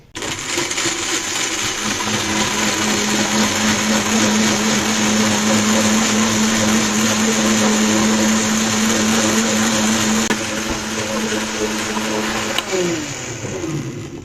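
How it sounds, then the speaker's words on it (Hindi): A juicer blender jug runs steadily on its machine base, churning plums with sugar, salt and water in a loud, continuous whirring drone that holds for about ten seconds before the pitch drops as it winds down. "जूसर जग हम चढ़ा लेते हैं मशीन पर।"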